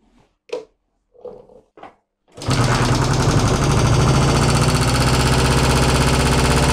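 A motorcycle engine undergoing carburettor synchronisation starts after a few short mechanical sounds, then runs loud and close at a fast, even idle that continues to the end.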